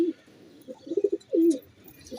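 Male black-faced pigeons coo softly and close by: a low rolling coo, a quick stutter of short notes, then a longer drawn-out call over a faint background hum.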